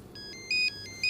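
A telephone rings indoors with a shrill electronic warble in two close bursts. No one is talking.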